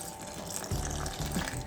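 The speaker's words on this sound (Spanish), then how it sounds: "Y vamos a ponerle un poco de agua." Water poured onto yeast and sugar for homemade whole wheat bran bread dough makes a steady, close splashing trickle with no talk over it.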